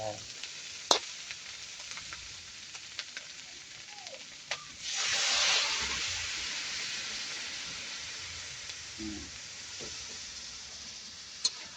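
Pork binagoongan with eggplant and string beans sizzles in a pan after a splash of water, a soft steady hiss that swells briefly midway, with faint clinks and light stirring, no talking.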